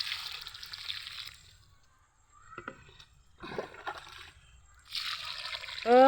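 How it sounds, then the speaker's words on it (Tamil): Water is poured into a plant pot filled with soil, giving short bursts of trickling and sloshing separated by quiet pauses, close up and moderately loud. "இப்போ தண்ணி ஊற்றிடுவோம்."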